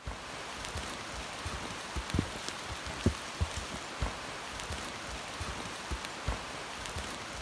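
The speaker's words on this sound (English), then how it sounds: "we do a little hiking in the rain" Steady rain patters on surfaces nearby, with scattered heavier drops tapping irregularly through the constant hiss; no voices.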